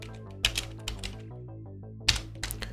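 Computer keyboard typing during work in Revit software, heard as a few sparse, close key taps and clacks over a steady background hum.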